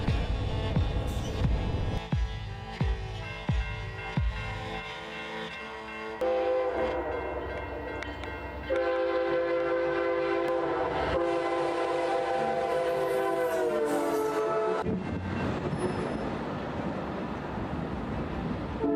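A train roars past with heavy rumbling and rhythmic clatter along the tracks, loud horn blasts sounding over the rush, then a fading roll.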